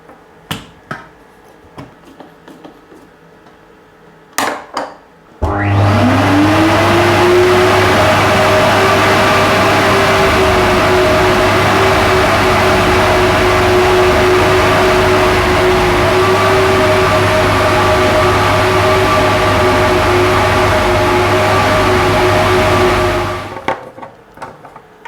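A flow bench blower draws air through the stock airbox of a Toyota Supra A90 (Mk5). A loud, steady rushing roar with a faint whine kicks in abruptly after a few seconds, holds evenly, then cuts off near the end.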